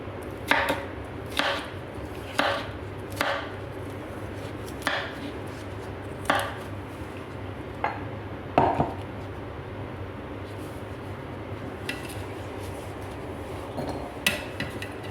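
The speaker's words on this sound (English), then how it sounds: "then cut them into small cubes." A knife chops a cucumber, peel still on, into small cubes on a cutting board. Each cut lands as a crisp knock, about a dozen of them in loose, uneven bursts against a quiet background.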